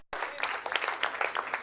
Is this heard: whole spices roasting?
no